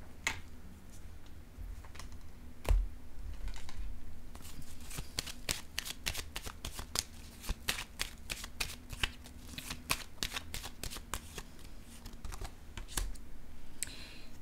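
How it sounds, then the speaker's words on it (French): Tarot cards shuffled and drawn by hand, a long run of crisp, rapid riffling flicks close up with a few sharper snaps, no talking. "je vais piger une autre carte ici"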